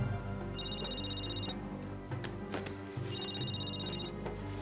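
A telephone bell rings in two bursts, a pause between them, over a busy background of music and room noise.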